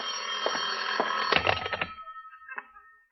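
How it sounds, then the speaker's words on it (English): A telephone bell rings with a bright, continuous metallic trill that cuts off about two seconds in, followed by a few faint thuds and a brief trailing chime. "Your phone, John. Answer it."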